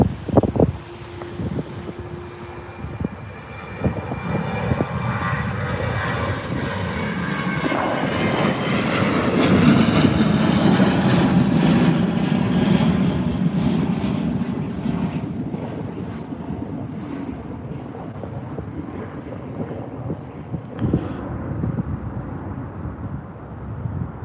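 A TUI Boeing 737 jet roars along the runway at Birmingham airport, swelling to a loud rumble and then fading, with wind buffeting the microphone throughout.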